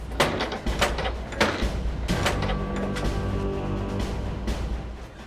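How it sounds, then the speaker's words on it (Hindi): Police force their way through a house door in a TV crime drama: a series of heavy, loud bangs and thuds lands in the first seconds, followed by a sustained low droning background. "दरवाजा तोड़ो।"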